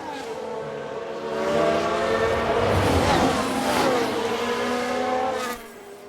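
Racing cars in F1 Manager 22 with a wheel lock-up under braking: a sustained engine whine swells and holds with a shifting tone, tire scrub mixed in, before dropping away near the end.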